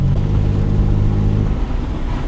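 A BMW with an N52 straight-six engine accelerates, its exhaust giving a loud, close, deep droning rumble that holds steady and then eases slightly toward the end.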